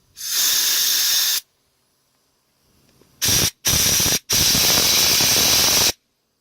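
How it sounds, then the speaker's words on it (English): Compressed air is blown through small passages outdoors to clear debris, giving loud, close hissing blasts: one long burst, then after a pause two short bursts and a final longer blast. "blow out some of these passages with some compressed air"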